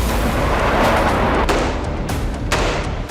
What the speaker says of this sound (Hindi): इजराइल ने यहां लगातार बमबारी की।